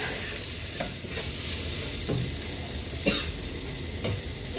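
Tomato and chilli powder fry in a pan for sausage masala, a continuous sizzle under several soft scraping stirs of a spoon, close and moderately loud.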